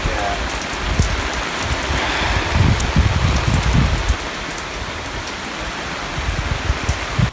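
Steady rain falls hard and close, a dense hiss that swells a little in the middle, with sharp drips and patters on nearby surfaces and faint speech underneath.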